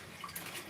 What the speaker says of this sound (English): So let's get a little bit of water running.